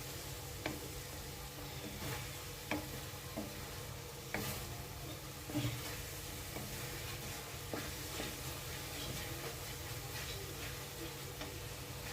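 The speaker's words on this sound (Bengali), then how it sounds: "খুব ভালোভাবে নাড়াচাড়া করতে হবে" Grated coconut and sugarcane jaggery cooking down for narkel naru, stirred in a pan with a gentle continuous sizzle and occasional soft spoon scrapes and taps, faint and steady throughout.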